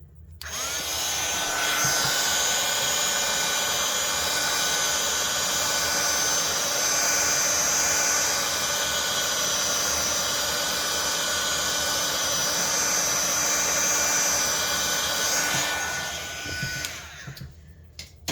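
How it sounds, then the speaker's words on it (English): A heat gun blows hot air over poured acrylic paint, a loud, steady, close whooshing roar that starts abruptly, runs continuously for about fifteen seconds, then cuts off. "I'm going to use my heat gun real quick."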